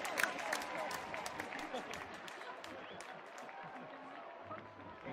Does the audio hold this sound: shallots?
no